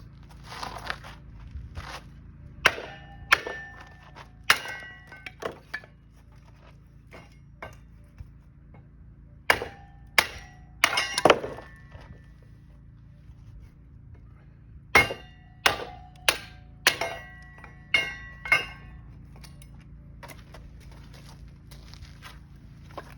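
Wood being split into small kindling pieces with a kindling cracker, sharp cracking and clinking impacts arriving in irregular bursts, some in quick clusters, against a quiet background.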